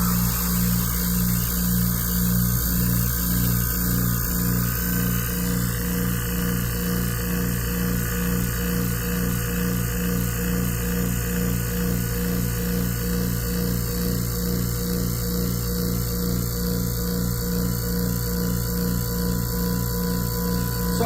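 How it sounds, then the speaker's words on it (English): A vacuum pump drawing air from a bell jar vacuum chamber runs loud and continuously, a steady mechanical hum with a rapid regular pulsing throughout. "Now I will turn off the pump because I know the pump's going to be loud."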